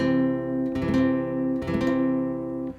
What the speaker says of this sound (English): If I push hard and grip the neck really firmly and bend those strings